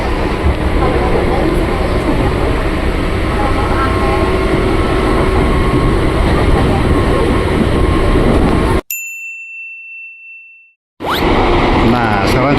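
A KRL commuter train of the JRS 205 series rumbles and roars steadily on the Depok–Bogor line, loud and close from inside, then drops abruptly to near silence with a brief high tone before the running noise returns.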